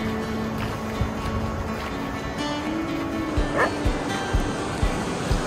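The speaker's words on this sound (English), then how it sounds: "Some of the dogs can be a little intimidating on the beach" Dogs bark in a short run of sharp, evenly spaced barks on a beach at low tide in the Philippines, heard over steady surf and wind, moderately near.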